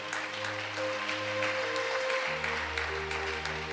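Church congregation applauding the Lord, steady clapping under sustained organ or keyboard chords, moderately loud and continuous throughout.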